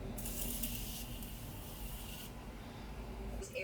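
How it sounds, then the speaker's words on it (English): Morphe Continuous Setting Mist sprayed from an aerosol can, a close, soft hiss lasting about two seconds that cuts off abruptly and leaves a quiet room. "So this is the Continuous Morphe Setting Spray Focus."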